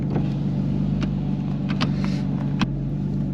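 A Porsche GT4RS with its PDK gearbox in sport mode rumbles with a steady, deep engine drone from inside the car. A few sharp clicks and knocks punctuate it.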